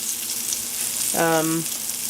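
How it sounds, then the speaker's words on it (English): Vegan chicken nuggets coated in flour fry in a pan with a steady, close sizzle throughout, broken briefly by a short voiced sound partway through. "put them in the pan, start to fry."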